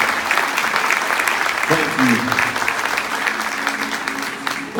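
Rodeo crowd at a bull riding event in Ames, Iowa applauds military and first responders, sustained broad clapping under a brief spoken word and a faint voice.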